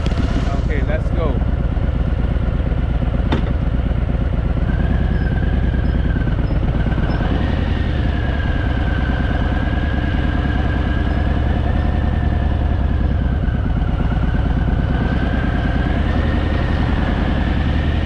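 A motorcycle on a long ride from London to Bosnia, with a fault that makes it stall now and then, idles and runs as a loud, steady engine drone throughout. A voice talks over it.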